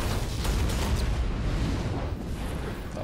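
A heavy, rumbling explosion in the video game Marvel's Spider-Man on PS4, with a dense low roar that sustains for a few seconds, loud and close.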